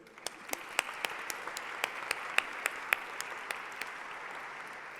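An audience at a science-museum panel discussion gives applause, heard as fairly quiet, scattered individual claps spread across a few seconds.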